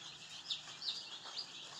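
Farm chickens cluck and chirp faintly at a distance, a few soft calls over a low hiss.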